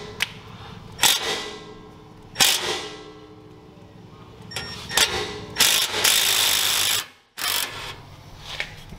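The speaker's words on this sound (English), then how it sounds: "I'm just going to reach down here with my little impact" A small impact wrench works on the hitch bolts of a Spartan RZ HD zero-turn mower, firing in several short, sharp hammering bursts with pauses between, up close, including one longer buzzing run near the end.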